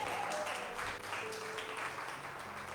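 A church congregation applauds during a sermon, giving a sustained wash of many hands clapping at moderate distance, steady across the whole stretch.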